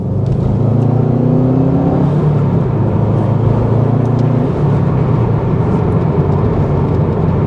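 A Subaru Impreza WRX STI Type UK with a 2.5-litre engine and AWD burbles steadily up close, a loud low rumble holding throughout with shifting tones as it revs.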